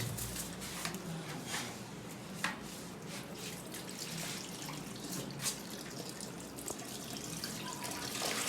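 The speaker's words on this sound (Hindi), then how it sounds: "पानी डालें बेटे इसमें" Water is poured into a toilet bowl while homemade herbal toilet cleaner is being tested, a steady close splashing wash that runs unbroken throughout with a few sharper splashes.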